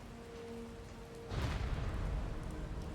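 Steady rainfall hissing over a low rumble in the video game Resident Evil 9: Requiem, growing louder and heavier partway through, with no voices.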